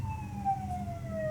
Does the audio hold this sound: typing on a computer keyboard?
no